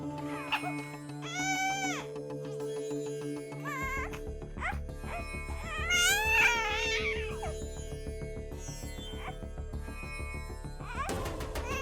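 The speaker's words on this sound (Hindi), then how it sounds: "ए सुमन, बच्ची रो रही है" A baby girl cries in a Hindi TV drama scene, her wavering wails rising in two clear bursts over steady background music.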